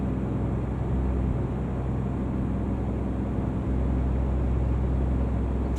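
A truck engine in Euro Truck Simulator 2 hums at a steady low drone, a smooth continuous rumble with faint road noise and no talking.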